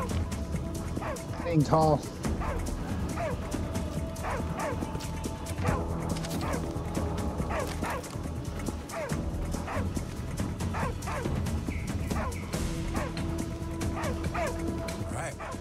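Dog in the VR zombie shooter Arizona Sunshine 2 barking and yipping repeatedly in short bursts amid game noise, with a person talking over it.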